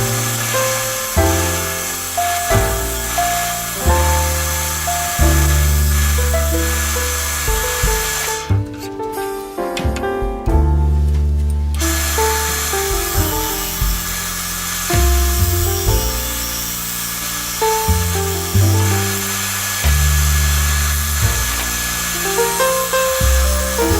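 A spindle gouge cuts a carver's mallet spinning on a wood lathe, giving a steady whirring scrape in repeated passes. A brief break in the cutting comes partway through, with no talk.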